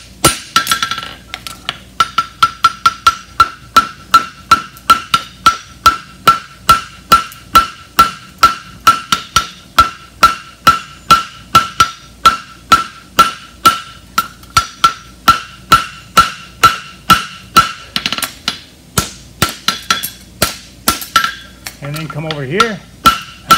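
Steady, ringing hammer blows on steel while flattening a European hind bar shoe at the anvil, dozens of evenly spaced strikes close up, with a brief spoken word near the end.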